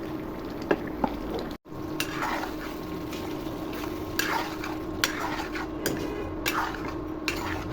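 Beef biryani masala stirred in a pot, a low steady cooking hiss with scattered scrapes and clinks of a utensil against metal, close by.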